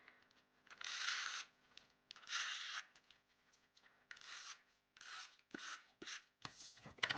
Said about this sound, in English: Tape runner.